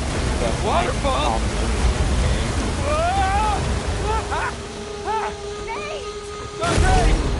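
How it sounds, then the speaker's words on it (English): A roaring waterfall in the Uncharted video game gives a broad, loud rushing wash throughout, with voices shouting over it and a surge of roar near the end. "Waterfall! Waterfall!"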